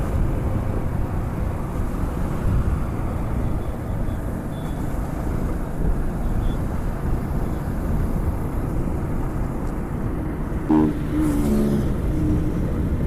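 A steady road roar of vehicles travelling fast on the road from Vizag toward Vizianagaram, close and continuous, with a brief horn-like tone near the end.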